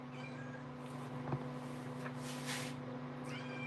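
A house cat gives a faint, brief meow over a steady background hum, in a quiet indoor room at night.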